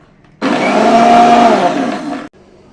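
A mixer grinder whirs loudly as it powders spices for sambar powder, a single close burst of motor roar lasting almost two seconds before cutting off abruptly.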